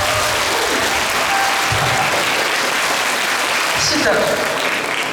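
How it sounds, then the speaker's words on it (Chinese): Audience at a concert held in a Kaohsiung hospital claps warmly and steadily, a thick continuous wash of applause with a brief spoken word from the stage near the start. "我们再给医大医院一个热情的掌声"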